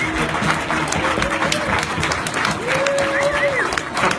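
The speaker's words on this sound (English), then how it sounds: "standing ovation" Applause from a large audience at a blockchain launch event as the DasCoin CEO takes the stage for a standing ovation, steady dense clapping with crowd cheers throughout, a whistle-like tone rising briefly near the end.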